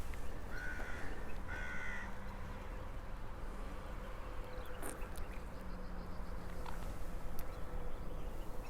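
Crow calls outdoors, a couple of brief caws early on over a steady outdoor background with insect buzzing.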